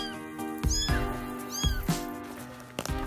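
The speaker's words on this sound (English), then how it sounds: "a man's swift response saved many kittens trapped in a flooded building" Kittens trapped in a flooded building meow repeatedly, several short high-pitched cries spaced across a few seconds, close and clear over a faint background hum.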